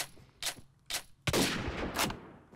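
Sniper rifle fire in a Fortnite-style Minecraft game: four sharp, loud shots spaced about half a second apart, the third the heaviest, with a rumbling tail that carries into the last shot. No one talks.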